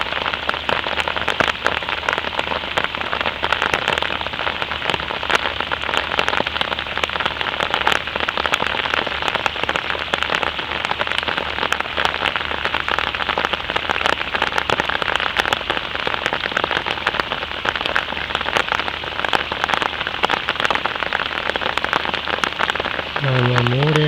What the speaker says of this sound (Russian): Легкий сентябрьский дождик.